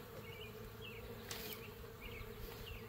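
Honey bees buzzing in an outdoor bee yard beneath a big oak, a steady close drone of many insects with individual bees passing nearby, no voices.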